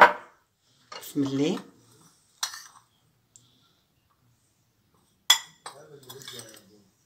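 Metal spoons clink and tap against containers while scooping ingredients for a three-ingredient immunity mix, coming as a few sharp close bursts separated by silence, with brief speech between them.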